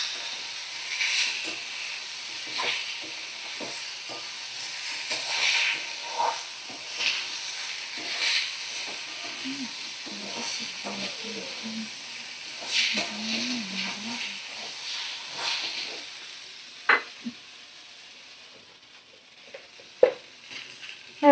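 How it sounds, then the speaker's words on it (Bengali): Spices for a fish curry sauté in a pan with a steady low sizzle and hiss, broken by scattered stirring scrapes and a few sharp clinks of a utensil against the pan near the end. "সমস্ত মশলা ভালো করে আমি কষিয়ে নেব।"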